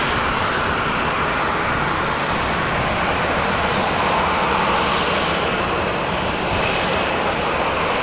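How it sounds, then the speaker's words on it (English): A KLM Boeing 737-700 jet departs from runway 18 Left at Amsterdam Schiphol, its engines roaring as a steady, loud, broad rumble that holds through the whole stretch with no talk. "This is KLM flight 1465, a 737-700 off to Marseille."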